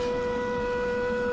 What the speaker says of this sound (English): Is that like tornado sirens?